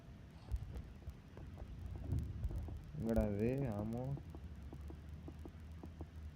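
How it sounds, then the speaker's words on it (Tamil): A heartbeat sound effect from the Granny horror video game, Barbie version, throbs as low, steady pulses under a continuous hum, while someone talks briefly over it midway. "ஹார்ட் பீட் ஆகுது"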